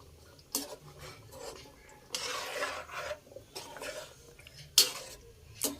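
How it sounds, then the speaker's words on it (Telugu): A spoon stirs bommidayilu fish curry in a metal pot after water has been added, making intermittent scraping and clinking strokes close by, with quiet gaps between them. "వాటర్ పోసుకొని మళ్ళీ ఒకసారి కలుపుకుందాం"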